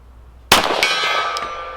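A Glock 41 .45ACP shot followed by the bullet striking a steel gong at 50 yards: a sharp report, then a second hit and a bright metallic ring that lingers and slowly fades.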